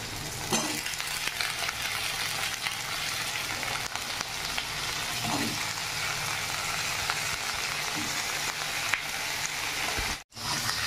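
Potatoes and onions fry steadily in hot oil, a dense continuous sizzle with soft stirring scrapes throughout, close and fairly loud, then a brief dropout near the end.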